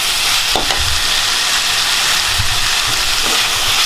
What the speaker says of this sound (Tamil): இப்போ பார்த்தீங்கன்னா தேங்காய் தக்காளி வெங்காயம் எல்லாம் நல்லா வதங்கிருச்சு